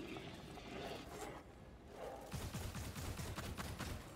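Weapon reloading in the video game Immortal: Unchained: clicking, ratcheting mechanical clatter that turns into a loud, dense burst of rapid metallic impacts over game noise.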